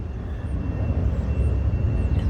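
A United airliner takes off at Dulles airport, its engines producing a steady, loud low roar that builds slightly, heard alone without talk.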